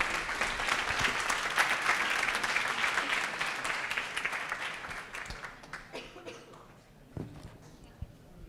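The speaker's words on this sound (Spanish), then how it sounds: "Un fuerte aplauso para Ima, por favor." An audience at a DataBeers open-data talk in València claps in sustained applause that gradually thins out and fades, with a few scattered claps at the end.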